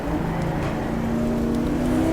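Ferrari 250 LM race car in GTR2 at the 1966 Daytona 24 Hours, its engine droning steadily and loud with a rising whine as it passes close by, no talk over it.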